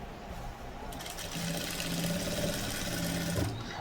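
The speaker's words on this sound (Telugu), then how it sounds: "జాగ్రత్తగా స్టిచ్చింగ్ చేసేసుకోండి" A sewing machine hums steadily as it stitches a red bandhani soft silk blouse, a close, even run that picks up speed after the first second.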